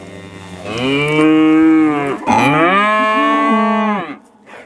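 Cattle on a farm give two long, loud moos close by, deep drawn-out bellows separated by a short break.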